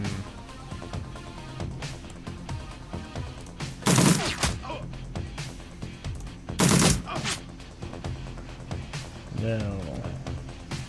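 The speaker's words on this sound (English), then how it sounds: "First, I think what we're going to do is we're going to do a frag grenade" Frag grenade attack in the video game Shadowrun Returns, with two sharp loud explosive bursts among rapid gunfire-like crackles, heard under a speaker's voice.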